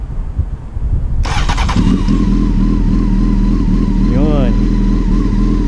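Car fitted with a Seto Racing aftermarket exhaust starting up and revving as it pulls away, a loud, close engine drone rising and falling in pitch, with a voice speaking briefly.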